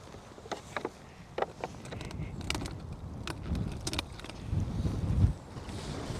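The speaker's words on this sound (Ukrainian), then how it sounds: "такі пориви вітру" Gusts of wind on a lake rumble and buffet the microphone in swelling, uneven waves, with light knocks and water or boat sounds at a fishing spot, and no voices.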